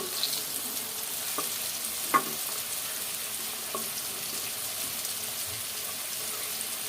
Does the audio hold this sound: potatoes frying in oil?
yes